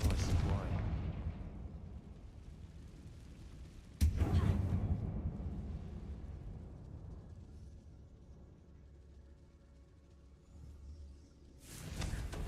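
Confringo blasting spell in a Harry Potter game set in a tomb-like closed mine: two sharp, booming explosions a few seconds apart, each decaying into rumbling echo, with a final burst at the end.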